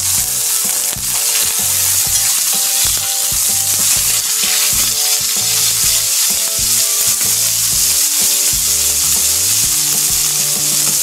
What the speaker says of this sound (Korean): 센 불로 양쪽 면을 한 번씩 기름에 강하게 튀겨주듯이 익혀준 이후에는요